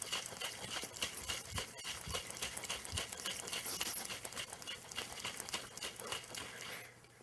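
Pisco Sour with egg white shaken in a cocktail shaker without ice, a rapid, rattling slosh of liquid that keeps up steadily for several seconds and fades near the end, with no talk.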